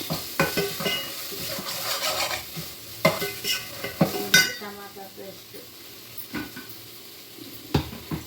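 Tomato paste sizzles and fries in oil in a pan for an Andhra fish curry, with a steady sizzle broken by repeated scraping and clinking of a spoon against the pot, loud and close.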